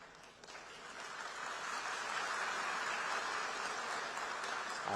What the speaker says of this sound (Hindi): आप गया था इसकी ताली बजा रहे हो, आया हूं इसकी ताली बजा रहे हो